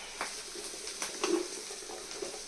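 Vegetables fry in a pan while cooking a tamarind curry: a soft, continuous sizzle with occasional light crackles and stirring taps, fairly quiet.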